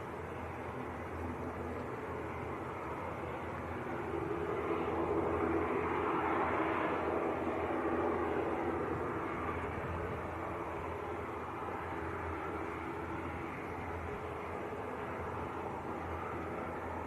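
An airliner arrives at Manchester Airport, a distant broadband roar of engine and air noise that swells gently through the middle of the clip and then eases back to a steady background rumble.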